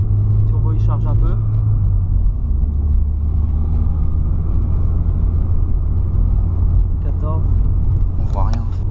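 A BMW 318is fitted with a turbo and running without a tune drones with a low, steady engine rumble while the turbo builds boost, as people talk over it in the cabin.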